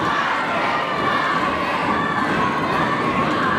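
Loud crowd roaring and shouting continuously at a No DQ wrestling match in Denham Springs, a dense wash of cheering voices with no clear breaks throughout.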